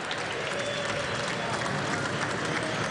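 Applause from the balcony of the New York Stock Exchange, a dense steady wash of clapping mixed with crowd noise, continuous and fairly even throughout.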